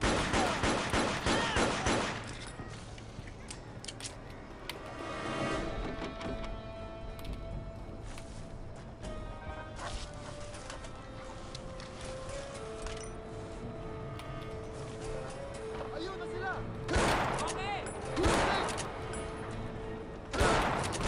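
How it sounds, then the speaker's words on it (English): Shotgun blasts ring out in the shooter game Combat Task Force 121, several sharp reports in separate bursts over a busy background of game sounds and music. "World's weakest shotgun, by the way."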